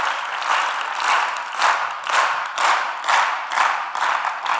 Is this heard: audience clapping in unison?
yes